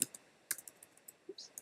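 Sharp, dry mouse clicks in a design app, a quick double click at the start and then a spaced series of single taps across a short stretch, close and fairly quiet with no voices.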